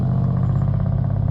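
Trucks revving on a neighborhood street, a steady loud low engine rumble that holds throughout without pauses.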